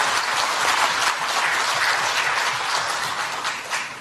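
Audience at a Democratic Party candlelight revolution debate forum bursts into sustained applause, dense clapping that swells and then tapers slightly near the end, with no voices over it.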